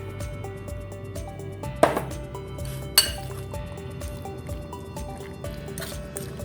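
Chicken is mixed with beaten egg and cornflour in a bowl, producing soft wet squelching with a couple of sharper clinks of a utensil against the bowl, under a steady background hum.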